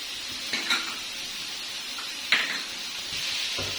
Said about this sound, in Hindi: अब इसको 4-5 मिनट के मैं अच्छे से भून लूंगी